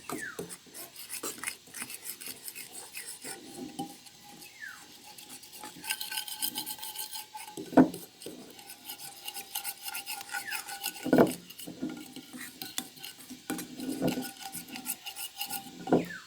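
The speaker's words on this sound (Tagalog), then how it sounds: "hahaluin natin para mag-mix yung mga ingredients" Pancit canton noodle ingredients being mixed in a pan, with repeated metal utensil scrapes and rasps against the pan in uneven strokes, a few louder clanks standing out.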